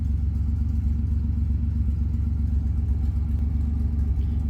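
A project drift car engine runs loudly and steadily with a deep, rumbling low drone and a faint mechanical clatter, holding close and constant throughout.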